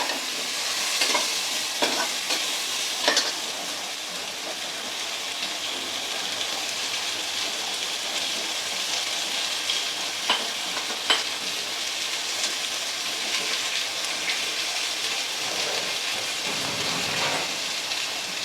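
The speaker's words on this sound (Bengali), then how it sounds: "আলুটা দিয়ে ভালো করে কষে নেবো যেন আলুটা একটু লাল লাল হয়ে যায়।" Large cut potatoes fry in a pan for a rainy-day khichuri, a steady sizzle broken by repeated scraping stirs, close and moderately loud throughout with no talking.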